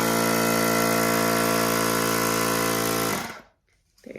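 A portable tire inflator pump runs with a loud, steady buzzing drone for about three seconds, then cuts off abruptly into near silence before a faint rise of room noise.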